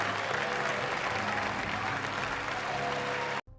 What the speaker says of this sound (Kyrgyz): алар ордунан туруп эле каарманыбызга кол чаап жиберишет